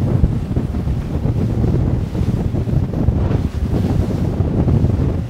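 Boat running at 30 mph up on the plane over light waves: steady, loud broadband rush of wind and water with a low engine drone throughout, no voices.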